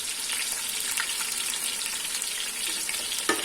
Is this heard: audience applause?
no